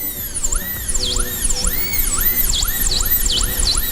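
A dental bur cuts a guide groove into a tooth with a shrill, high whine that rises and dips in pitch over and over as it loads and frees. Close and continuous, it plays over a low background hum.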